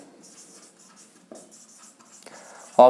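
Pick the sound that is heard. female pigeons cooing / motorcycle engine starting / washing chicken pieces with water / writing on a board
writing on a board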